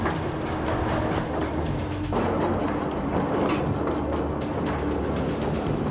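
An underground mine train rumbles through deep tunnels in a South African mine, a continuous, loud, droning roar with steady low hum and clattering texture throughout.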